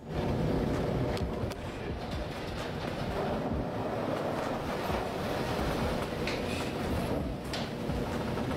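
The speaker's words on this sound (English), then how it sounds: "the mother of all monster waves that they had to face" A continuous roar of crashing ocean water and rushing surf, loud and close, with no break for the whole stretch.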